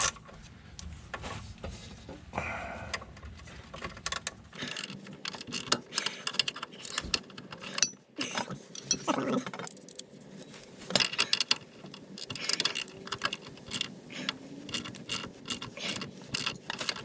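Ratchet removing M12 triple hex bolts with 18 mm nuts from a Mercedes W124 control arm, in quick bursts of clicking and metallic clinking separated by short pauses, close up.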